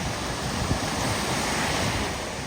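Continuous wash of sea surf at Sunny Beach, Bulgaria, mixed with gusty wind buffeting the microphone, steady and close, no voices.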